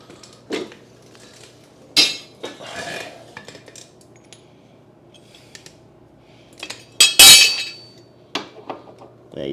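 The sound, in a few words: metal push mower blade fitted onto blade adapter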